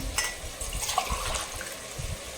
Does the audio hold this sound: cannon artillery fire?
no